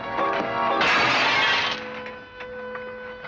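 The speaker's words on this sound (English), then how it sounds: "You busted Lily's looking glass." A mirror shatters in a western film scene, a loud crash of breaking glass with tinkling shards trailing off over about a second amid other soundtrack noise.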